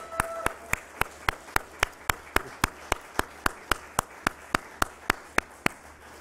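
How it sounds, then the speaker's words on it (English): Slow, even claps ring out at a Nasdaq market opening ceremony, about three per second for six seconds, sharp and fairly close over a soft background murmur, sounding more like a single rhythmic clapper than a full crowd. "Let's give a round of applause and kick it off."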